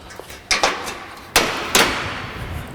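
A mallet knocks a top beam down onto a long span metal work bench frame, giving four sharp, ringing knocks in two quick pairs, loud and close.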